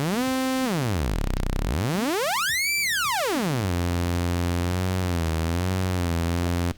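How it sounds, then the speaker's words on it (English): DIY Eurorack synth VCO oscillator putting out a sawtooth wave, a steady buzzy tone sweeping down low, swooping up to a high peak and back, then holding a wavering pitch, continuous and close without any voice. "right now we're just hearing the sawtooth wave from this oscillator."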